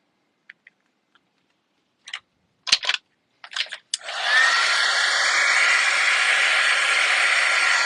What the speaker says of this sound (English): we'll just give it a little shot with the heat gun